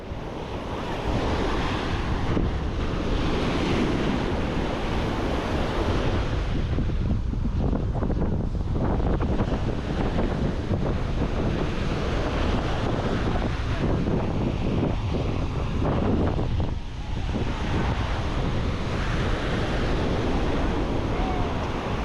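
Ocean waves break continuously on a sandy beach at Playa Mamitas, a loud, dense roar of surf mixed with heavy wind buffeting the microphone throughout.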